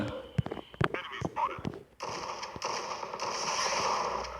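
Gunfire in the Zombie Defense video game: several sharp scattered shots early on, then a denser stretch of continuous rattling fire and game noise, with a voice speaking over it.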